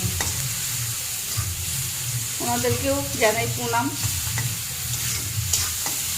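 Shrimp sizzling and being stirred in a frying pan for a pumpkin-greens dish, a steady hiss with scraping stirs throughout while someone speaks briefly in the middle.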